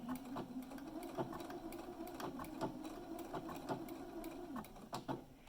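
A sewing machine stitches a pocket on a drawstring bag, a faint, steady mechanical hum with a regular ticking rhythm that slows slightly partway through.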